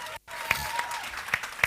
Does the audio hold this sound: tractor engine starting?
no